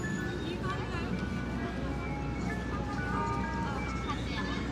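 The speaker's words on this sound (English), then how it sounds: "Can you hear the ice cream truck?" An ice cream truck plays its jingle on a Manhattan street in New York City, a steady tinny melody running under continuous street noise and traffic hum.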